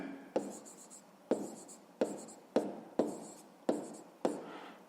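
Pen strokes on paper while working a 5th-grade maths exercise, seven short scratchy bursts in a steady rhythm, close and fairly quiet, with no talk.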